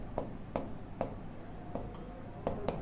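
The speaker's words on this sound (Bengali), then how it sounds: "এই যে লিখে দিচ্ছি, দেখো" Marker or pen writing on a board or paper during a higher math lesson, a series of quiet scratchy strokes in an irregular rhythm, close and soft, with no talking.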